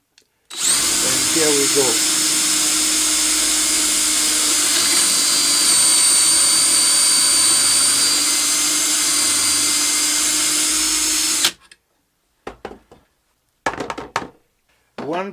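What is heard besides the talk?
power drill boring dowel holes in a board using a jig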